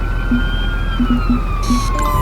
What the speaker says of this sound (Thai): นี่รถดับเพลิงมาแล้วนะครับ